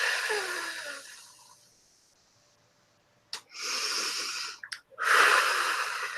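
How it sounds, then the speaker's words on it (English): Deep breaths during a live dark goddess rebirth ritual: a long exhale fades to near silence, then a sharp snort and two loud, close, hissing breaths follow. "Deep breath."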